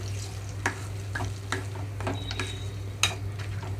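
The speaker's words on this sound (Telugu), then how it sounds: "తాలింపు అంతా కలిపేస్తున్నాను" Tamarind chutney being stirred into hot tempering in a pan, giving a low steady sizzle with a few sharp scraping clicks of the spoon against the metal spaced through it, close and moderately loud.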